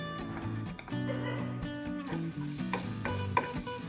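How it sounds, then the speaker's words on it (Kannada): Garlic pieces fry in oil in a pan, a soft, steady sizzle sitting under prominent background music, with a faint clink near the end. "ಇದಕ್ಕೆ ಬೆಳ್ಳುಳ್ಳಿ ಪೀಸಸ್ ಹಾಕ್ಕೊಳ್ತಾ ಇದ್ದೀನಿ."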